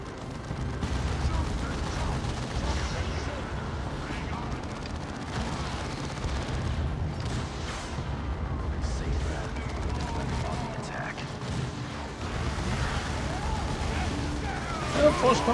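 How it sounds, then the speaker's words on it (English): An explosion in the Dawn of War 2 Chaos Rising strategy game, a dense rumbling blast amid a continuous din of gunfire and battle noise between Chaos and Ork units, loud and sustained. "well, that was an explosion."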